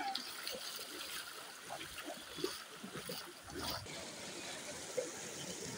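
Fast-flowing river water by a village bridge makes a faint, continuous rush with small splashes, heard under someone talking.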